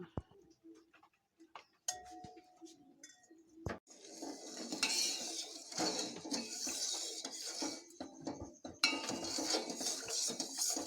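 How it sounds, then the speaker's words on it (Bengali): Granulated sugar poured into a metal mixing bowl for homemade rasgulla syrup, a steady hissing, rattling stream with metallic clinks of the bowl, close by and moderately loud, starting after a few scattered knocks. "চিনিটিকে প্রথমে আমি একটি গামলার মধ্যে ঢেলে নেব।"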